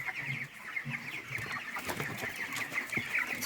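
A flock of 23-day-old broiler chickens clucks and chirps continuously, a busy overlapping chatter of many birds close by, with no talking.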